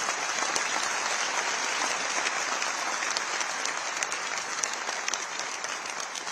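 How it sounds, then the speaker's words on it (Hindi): A large audience at a BJP political speech by Rajnath Singh breaks into sustained, dense applause, with even crowd clapping holding steady throughout and no talking over it. "कुछ तालियां नहीं बजनी चाहिए, एक हाथ यहां नहीं होना चाहिए जो ताली न बजाए"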